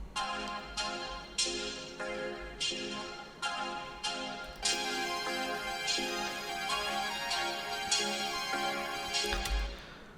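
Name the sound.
vocoder modulating voice with synth chords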